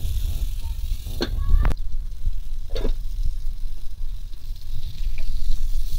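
Fish, ilish, shallow-frying in oil in a covered pan gives a steady low sizzle and crackle throughout, with a few brief clinks from cookware.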